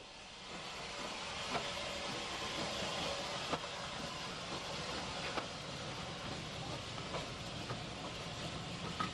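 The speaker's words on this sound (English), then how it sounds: "Woolwich Muggle number 384 departs with the 9:25 a.m. Tralee to Dublin train" Woolwich Mogul steam locomotive no. 384 pulls away with a Tralee to Dublin train that includes a former Pullman car, a steady distant rumble and hiss with occasional faint rail clicks throughout.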